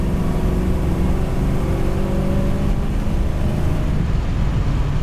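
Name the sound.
1970 Dodge Challenger R/T 383 Magnum engine revving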